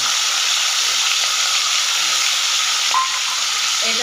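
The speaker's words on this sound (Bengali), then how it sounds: "এটাকে 2 মিনিট মতো কষে নেব।" A paste of onion, garlic, ginger, green chili, coriander and cumin fries in a pan with a loud, continuous hiss. The sizzle stays steady and close, and one faint clink rises near the end.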